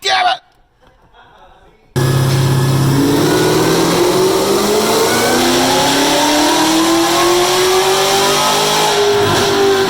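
A 2016 Cadillac CTS-V engine revved hard after a brief quiet start, its loud sustained roar climbing steadily in pitch and holding high near the end.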